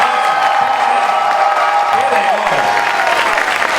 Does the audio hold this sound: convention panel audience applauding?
yes